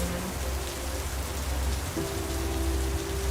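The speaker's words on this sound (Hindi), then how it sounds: "और अचानक से घाट सेक्शन पार करते ही बारिश शुरू हो गई" Rain pours steadily on a train passing through the ghat section of a scenic Rajasthan route, a dense, even wash of drumming noise with a low rumble of the moving train beneath and faint tonal hums.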